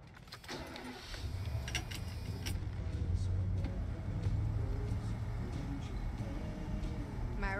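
A car in the video game Quantum Break idles and runs with a steady low engine rumble under a music bed, with brief clicks and door or key sounds near the start, and occasional voices.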